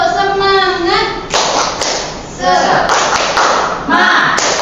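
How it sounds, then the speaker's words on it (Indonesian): Schoolchildren in a classroom perform a rhythmic spirit clap led by their teacher, with loud bursts of group clapping and thumps alternating with chanted voices and the teacher's speech. "Bu Guru ingin mengajak kalian untuk melakukan tepuk semangat"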